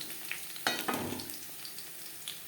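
Garlic frying in a pan for a Bengali bottle-gourd greens dish, a soft steady sizzle with two sharper scraping stirs close up early on, then a quieter hiss with faint clinks.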